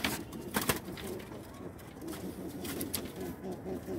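Pigeons of the red and pied varieties cooing softly in a loft, a low, faint, rumbling murmur that runs on throughout with no talk over it.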